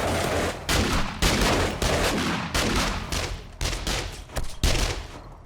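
Rapid bursts of gunfire in the zombie survival game 7 Days to Die, with loud close volleys repeating in quick succession and short gaps between them.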